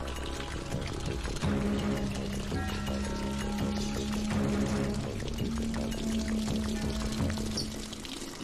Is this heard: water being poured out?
yes